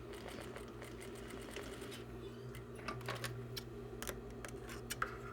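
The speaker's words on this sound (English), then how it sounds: "we're going to just sew up the side. Go as close as you can to the welt." A sewing machine stitches up the side of a jumbo welt braided tieback, its needle running in a fast, even mechanical rattle with a steady hum, close and alone, with a few sharper ticks near the end.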